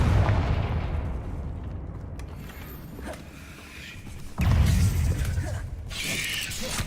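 Crackling fiery spell blasts cast in Hogwarts Legacy, a burst at the start and another heavy impact past the midpoint amid a dense, noisy combat din, loud and close with no clear talk.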